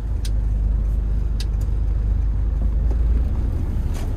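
Diesel engine of an older Toyota Innova with the 2KD engine, driving steadily: a continuous low rumble with road and wind noise, fairly loud and even, with a few faint higher ticks.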